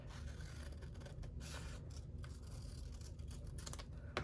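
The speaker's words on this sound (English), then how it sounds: "just grab my scissors," Scissors snip and scrape through paper for a junk journal, a close, quiet run of short crisp cuts and rustles over a low background hum, with no talking.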